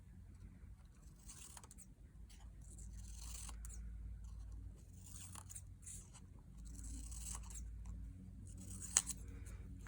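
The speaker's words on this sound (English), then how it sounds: "if I cut these into triangles" Scissors snip paper into triangles for a children's shape-monster craft, a few quiet, close, crisp cuts spread across a hushed room.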